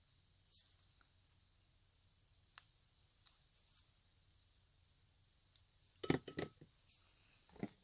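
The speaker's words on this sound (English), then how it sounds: "I'm just going to trim the corners." Scissors snip the corners of a paper label at a craft desk, a few quiet scattered cuts followed by a quick cluster of crisp, louder snips near the end, close and alone.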